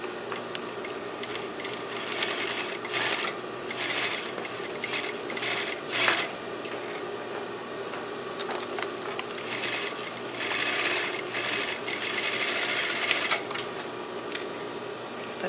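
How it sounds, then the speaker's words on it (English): Sewing machine stitching a quarter-inch seam on a pocket, back tacking at both ends, with a steady close whirring hum that runs almost the whole time in short bursts and brief pauses. "Okay, this is going to be a 1/4 inch seam allowance, permanently stitching at both ends."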